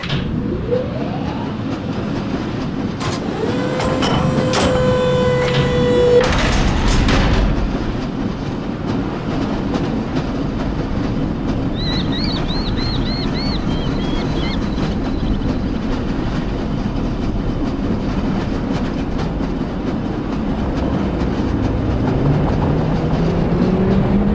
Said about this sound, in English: This lever-controlled train will transport you to a location where your training associates are waiting for you.